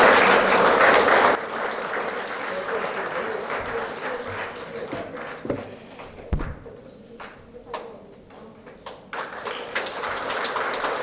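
Audience applause at a valedictory ceremony for MRCON 2024, loud and dense for the first second or so, then dropping to scattered lighter claps that linger faintly with some background murmur.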